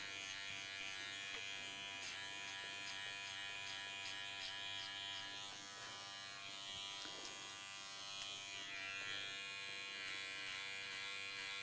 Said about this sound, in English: Run that clipper at a little bit of an angle around the ear, up here.